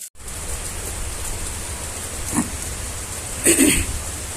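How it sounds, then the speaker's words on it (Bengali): Heavy rain falling outside, a steady dense hiss close by, with a couple of brief louder knocks or clatters partway through and no speech. "আর বাহিরে দেখেন কিরকম বৃষ্টি।"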